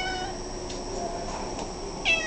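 Dustin, a young kitten, lets out a soft meow at the start and a sharper one near the end over a quiet room hiss.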